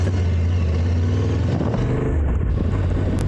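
Yamaha Tenere 700 motorcycle engine droning steadily and loudly while riding slowly along a muddy forest road, with a constant low rumble throughout and no talking.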